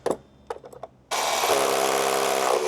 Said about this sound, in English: so we're gonna drill our first hole